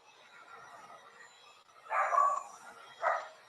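A dog barks indoors in two distinct bursts, the first longer and the second shorter, rising out of a faint steady background with no talking.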